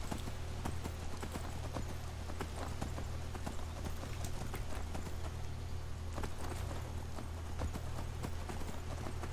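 Horse hooves clip-clop in a steady walking rhythm in Skyrim, close and continuous over a background of rain.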